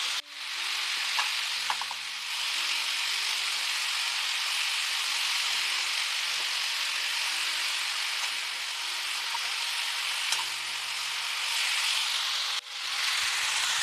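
Turmeric and ginger-garlic paste sizzling steadily in a hot pan while cooking vegetable biryani, a loud, continuous frying hiss with faint stirring scrapes underneath.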